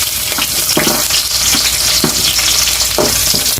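Garlic and onion sautéing in a hot pan for a Filipino home-cooked dish: loud, close, continuous frying sizzle with periodic scraping strokes of a spatula stirring, and no voices over it.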